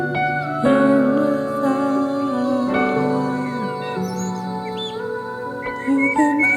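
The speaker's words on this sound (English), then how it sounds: "You can hear the birds singing." Springtime birdsong: chirps and tweets ring out over a steady bed of sustained tones, continuous and fairly loud, with no talking.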